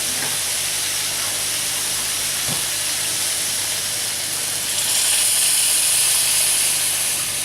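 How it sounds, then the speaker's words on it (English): Boiling water pours from a kettle over meat in a steady, hissing rush that grows slightly louder toward the end, with no voices. "Now we're ready to top up this with boiling water from the kettle."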